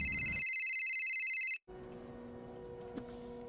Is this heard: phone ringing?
yes